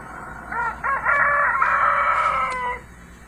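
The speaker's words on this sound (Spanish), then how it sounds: "Y enseguida el gallo cantó." A rooster crows once, loud and close, in a long stretched call with a stuttering start and sustained tail, heard clearly over faint background.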